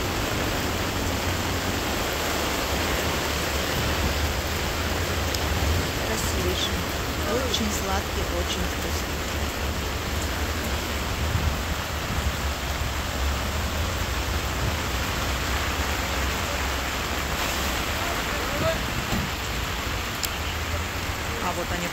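Heavy rain downpour at a market in Tashkent hisses steadily and loudly throughout, with a person talking briefly over the constant roar of falling water.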